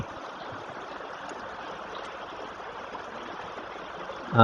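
Continuous rushing, trickling water as water is drawn from a biofloc tilapia pond for probiotic testing, heard steady and close, then a sharp louder splash at the very end, with no talk.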